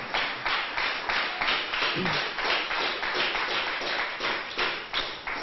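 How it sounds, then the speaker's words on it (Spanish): A church congregation claps along in a steady, rhythmic beat during a Spanish-language sermon service, many hands together at a brisk even tempo, fairly loud and close, with a brief voice under it. "¿Cuántos pueden darle un fuerte aplauso al Señor en esta tarde?"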